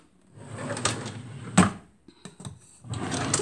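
A drawer in a garage converted into a living room and office is pulled open nearby, with rustling and rattling of its contents, one sharp knock, then a few lighter clicks and shuffles.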